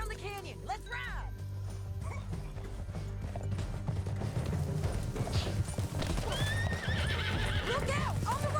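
Horses gallop and whinny in the Western video game Red Dead Redemption 2, with rapid hoofbeats building under loud neighs and a dense game soundtrack, while voices shout over the action.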